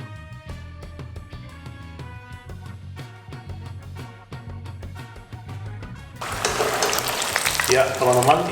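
Battered shrimp fry in hot oil, a soft crackle under rhythmic clinks of a utensil stirring the pan, then the sizzle swells loud and bright near the end.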